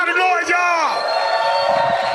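Crowd at a live comedy show whoops and hollers loudly, a dense babble of voices and cheers filling the room from start to finish with a sustained shouted call near the start.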